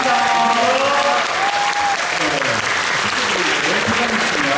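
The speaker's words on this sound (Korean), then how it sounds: "우리 브람스 배우님들과 작가님께 큰 박수" Loud, sustained audience applause after a performance of the musical Brahms, steady clapping throughout with a voice speaking over it.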